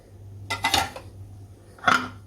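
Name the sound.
mixing eel fish with marinade in a bowl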